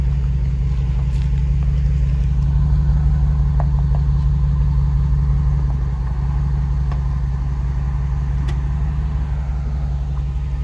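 A vehicle idles and rumbles steadily while backing a trailer around a corner, a continuous low engine drone at constant level throughout with faint clicks and knocks above it, no voices.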